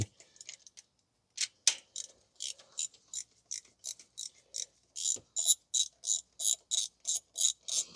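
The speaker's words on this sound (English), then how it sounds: "So now we are going to remove the mounting bolts. It's an half inch socket." Ratchet with a half-inch socket removing carburetor mounting bolts on a 1982 Oldsmobile Cutlass Supreme 454 with a Holley 4-barrel 4150, sharp clicking strokes close by, irregular at first, then a fast even run.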